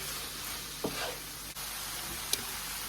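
Garlic salt and chili powder are stirred into a pan of chili. A soft, continuous sizzle carries a couple of brief scraping strokes and a small click, all faint, with no talking.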